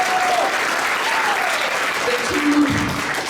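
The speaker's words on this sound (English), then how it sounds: "Big hand of applause for Penelope and Ashanti" Audience applause at a community gathering about Indigenous homelessness, a loud, dense patter of many clapping hands lasting the whole stretch, with a voice speaking over it.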